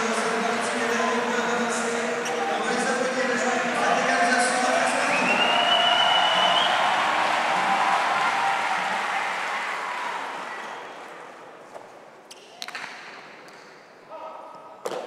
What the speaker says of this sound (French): l'égalisation sous les applaudissements nourris du public de Saint-Jean-de-Luz